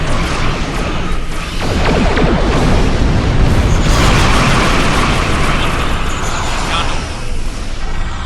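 Starship weapons in Star Trek Online unleash a loud, sustained barrage, booming blasts and crackling energy discharges merging into a continuous roaring wall of noise.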